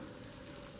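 Whole cloves and bay leaves crackle in melted ghee for sweet rice, a steady soft sizzle that stays faint and even throughout, with a tiny pop near the end.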